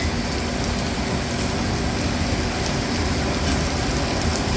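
Steady rain falls at night around an aircraft under hydraulic leak repair, a dense, even wash of patter close by, with a faint mechanical hum running beneath it.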